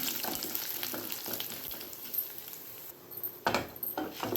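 Dried red chillies fry with chana dal and urad dal in a pan, giving a soft, steady sizzle with occasional stirring scrapes and clinks close by.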